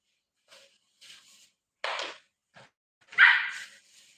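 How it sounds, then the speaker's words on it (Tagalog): A dog barks in a few sharp separate bursts with quiet gaps, starting with small yips and ending on one louder, fuller bark, heard close with no talk. "Nagtatahol-tahol na naman yung aso ko"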